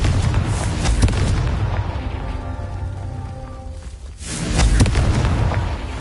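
A Confringo fire spell explodes in the Hogwarts Legacy video game, a loud booming blast with rumbling bursts that fade, then a second heavy boom near the end.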